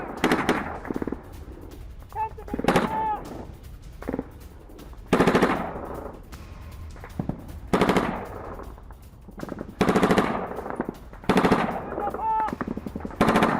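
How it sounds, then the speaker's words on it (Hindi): Gunfire in news footage of an SPG-9 recoilless launcher attack on an armored vehicle: loud, sharp bursts and shots recurring every second or two over a roughly steady background, with no clear talk. "बख्तरबंद वाहन पर SPG-9 मिसाइल से हमला किया गया।"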